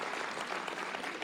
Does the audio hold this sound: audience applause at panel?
yes